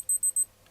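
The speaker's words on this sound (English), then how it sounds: "And there is the first beep" A Casio G-Shock GLX-5600 G-Lide watch's countdown timer gives three short, high electronic beeps in quick succession, close up and clean, followed by near silence.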